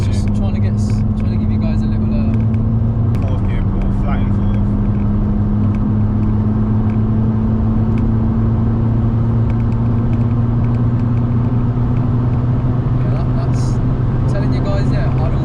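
A Skoda Fabia vRS diesel hot hatch pulls flat out in fourth gear, its engine drone rising slowly and steadily over road rumble inside the cabin, with someone speaking over it.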